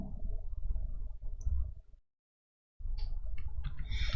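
Soft, rapid keystrokes on a computer keyboard fill a search field, stop for a brief silent pause, then resume with lighter, crisper clicks.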